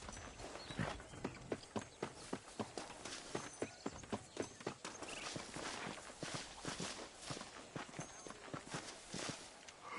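Horse hooves clip-clop in a steady walking rhythm while riding through the Western world of Red Dead Redemption, the footfalls close and distinct over a bed of ambient outdoor noise.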